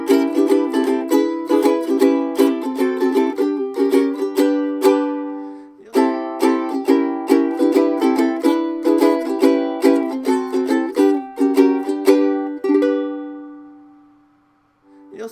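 A TUSL-35 stringed instrument plays the opening of a song, with bright, close plucked notes and chords in a lively ragtime rhythm, pausing briefly once and ringing out to silence at the end.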